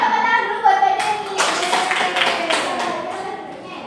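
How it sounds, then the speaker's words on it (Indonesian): Students in a classroom clap briefly for a classmate, a short scattered burst of hand claps that swells, then fades within a couple of seconds, with children's voices before it. "tepuk tangan dulu buat Mbak Deni"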